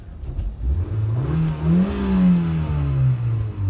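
Race car engine revs up in a smooth rising and falling sweep, the pitch climbing then easing off and holding steady, loud and close with no talking.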